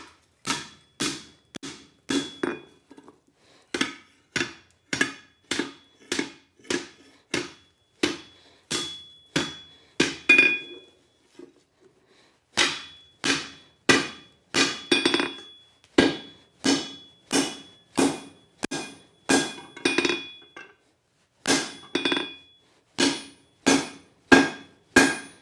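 A hand hammer strikes hot steel on an anvil while a piece is bent over for a no-tong hot-cut hardy, giving loud ringing blows in a steady rhythm with a couple of brief pauses.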